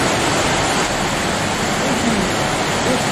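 Niagara Falls, on the border between Ontario and New York State, roars as a loud, dense, unbroken rush of falling water filling the whole stretch.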